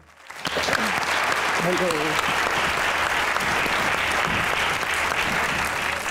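Audience applause welcomes a singer onto a Pakistani comedy show stage, rising from a quiet start into a steady, dense ovation that holds for several seconds, with a brief tonal accent in the middle.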